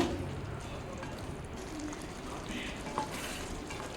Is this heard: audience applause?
no